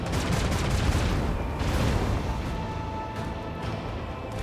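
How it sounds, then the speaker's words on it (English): Starship cannon fire in the Rogue Trader video game, heavy booming volleys and crashing impacts rolling one into the next, loud and dense for the first half before easing into a rumbling tail, with no voices. "Cannons, annihilate them."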